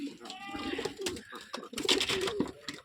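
Rajshahi Giribaj pigeons coo in a loft, several low throaty coos overlapping close by, with wing flutters and soft knocks mixed in.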